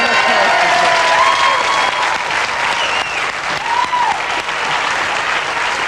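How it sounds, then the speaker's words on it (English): A studio audience claps loudly and continuously at a television game show, with the applause sustained at full strength throughout and a few voices and whoops rising over it. "Don't you give me another round of applause?"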